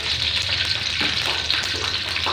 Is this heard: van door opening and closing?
no